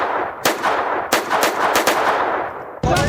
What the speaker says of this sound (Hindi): दनादन गोलियां चली और कबड्डी खिलाड़ी और प्रमोटर राणा बलाचौरिया का मर्डर हो जाता है